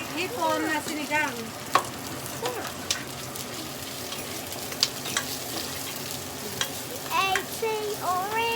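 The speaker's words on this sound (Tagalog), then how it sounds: "We are cooking. Magluluto kami ng hipon na sinigang." Shrimp sinigang cooks in a pot with a steady sizzle and occasional stirring clinks and scrapes, close by, while people talk over it at times.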